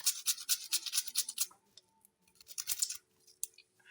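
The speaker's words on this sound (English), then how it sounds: "Not really blending, but you grate." Irish potatoes and carrots are rubbed against a kitchen grater for a breakfast recipe, giving quiet, close, rhythmic scraping strokes in two short bursts separated by a brief pause.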